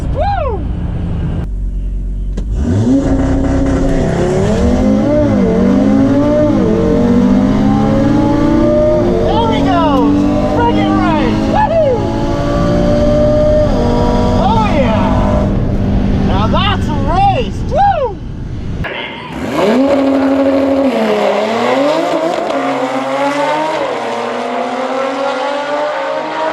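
An Audi RS3 Stage 2 and a Porsche 911 Turbo S run a drag race, engines roaring loud and close as they climb through the gears with repeated rising pitch sweeps and shift dips, while people can be heard shouting over them.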